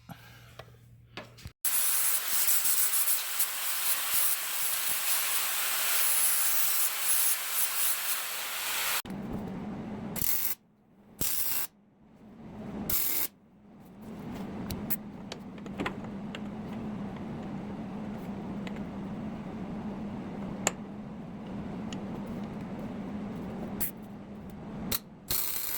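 Tack welding a mount onto an El Camino frame: a long, loud, crackling hiss of an arc, then a string of shorter welding bursts with brief gaps and a steady electrical hum beneath, no talking.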